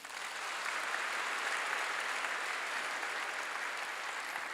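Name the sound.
congregation applause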